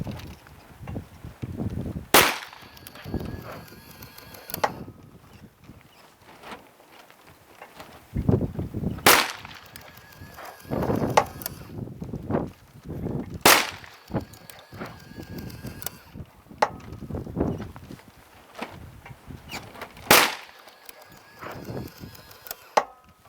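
10mm handloads with a 200-grain Swift bullet fired from a SIG P320-XTEN pistol: four sharp, loud shots spaced several seconds apart, each followed by a ringing tail and clattering handling noise in between.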